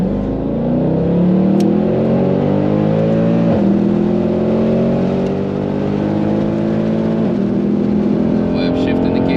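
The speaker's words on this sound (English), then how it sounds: "I'll leave the window open for that acceleration." Mercedes C63 AMG Black Series accelerating hard on the Nürburgring, its engine note climbing steadily through the gears with brief dips at each upshift, loud and continuous from inside the cabin with the window open.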